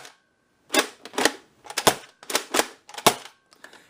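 A modified Buzz Bee Interceptor toy dart blaster with an upgraded spring is cocked and fired across a workbench, giving a string of sharp, close snapping cracks and clacks about six in quick succession with brief gaps between them.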